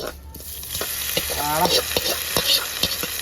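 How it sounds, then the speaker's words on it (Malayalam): Mustard seeds sizzling in hot oil as tempering for mango pulissery, a loud, continuous crackling hiss with a few sharp spatters and pops, and a brief voice in the middle. "ഇനി ഇതിലോട്ട് നമ്മൾ ഈ കടുക് താളിച്ച് ഇടാൻ പോകണം കേട്ടോ"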